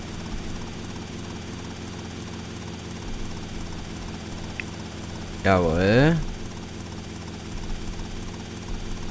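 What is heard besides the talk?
helicopter flying in the video game GTA Vice City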